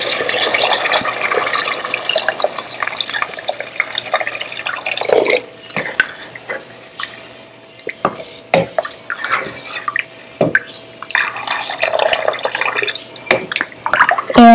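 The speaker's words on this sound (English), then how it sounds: "And then I'm going to add water." Water is poured into a pot of browned lamb for Kabuli pulao, a close, loud splashing and gurgling that rises and falls with brief pauses.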